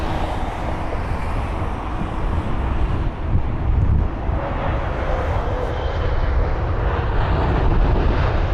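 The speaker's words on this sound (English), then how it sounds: "There's that 787." A Boeing 787 airliner at London Heathrow gives a loud, steady jet roar that rumbles on throughout, mixed with wind buffeting the microphone.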